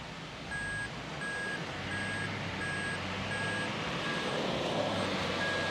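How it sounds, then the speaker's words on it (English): A regular series of short electronic seatbelt warning beeps repeats evenly inside a Toyota Land Cruiser 300 Series on a dyno, over a steady low engine hum. "Seatbelt buzzer's going off, so I'll put a seatbelt on."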